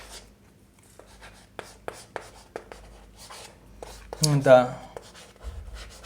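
A pen writes a maths equation on paper: soft scratchy strokes and taps come close and at an irregular pace, with a voice speaking briefly over them.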